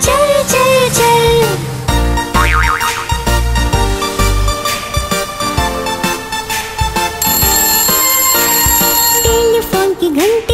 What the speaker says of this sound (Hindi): टेलीफोन की घंटी बजी ट्रिंग ट्रिंग ट्रिंग